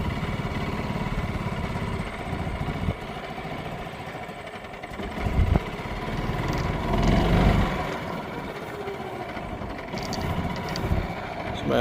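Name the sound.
golf cart engine running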